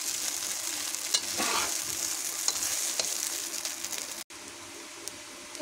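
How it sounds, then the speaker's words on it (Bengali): Chira biryani being stirred in a hot pan with chili powder, salt and turmeric gives a loud, close, continuous sizzle broken by scraping strokes of the spoon, with a brief dropout late on. "এবার সম্পূর্ণ ভালোভাবে নেড়ে দেবো।"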